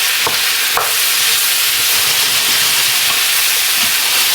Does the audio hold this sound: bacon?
yes